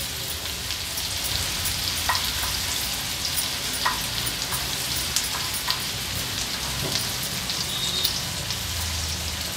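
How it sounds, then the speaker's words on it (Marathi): Onion sautés in oil over a low flame, giving a steady, dense sizzle like light rain, close and continuous, broken by occasional soft clicks of a stirring spoon. "लो फ्लेमवर कांदा फक्त आपल्याला परतून घ्यायचा आहे"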